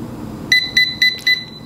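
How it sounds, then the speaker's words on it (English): Four short, evenly spaced electronic beeps sound loud and close, with a brief pause between each. "at 19 seconds, you'll hear a beep."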